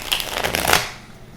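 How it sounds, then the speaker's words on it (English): A deck of DC Deckbuilding Game cards is riffle-shuffled up close, giving a quick, loud burst of fluttering card snaps that stops abruptly. "So I'm going to give them a shuffle"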